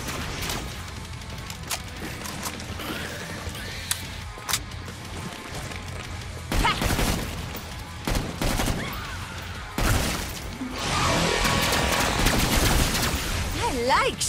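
Player's guns firing in the video game Killing Floor 2: bursts of sharp gunshots and rapid automatic fire, loud and close, with heavier volleys toward the end and a voice talking at moments.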